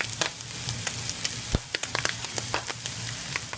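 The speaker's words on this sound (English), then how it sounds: "Look for that pop and sizzle." Food sizzles in a pan with frequent sharp pops and crackles over a low steady hiss, close by.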